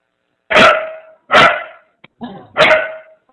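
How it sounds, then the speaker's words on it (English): A dog barks four times, loud and close, in sharp separate bursts spaced under a second apart, with near silence between them. "There's a dog barking"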